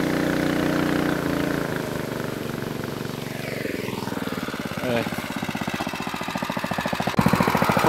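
A petrol-powered water pump motor for garden irrigation runs close by with a steady rattling, pulsing engine chug that speeds up slightly toward the end, with people talking over it.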